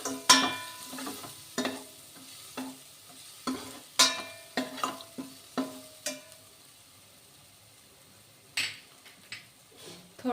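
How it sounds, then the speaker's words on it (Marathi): A spoon stirs bhogichi bhaji in a pan with curry leaf powder, cumin powder and turmeric, giving a series of distinct scraping clacks with short gaps and a light sizzle underneath, close by, with no talking. "कढीपत्ता पावडर, थोडी हळद घालून हलवून घेऊया."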